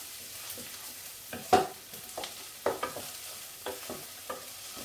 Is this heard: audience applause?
no